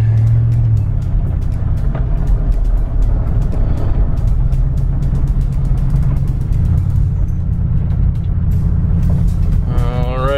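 A 1995 Dodge Ram truck rolls down a driveway, its engine a steady low rumble close by and continuous throughout, with faint rattles riding on top.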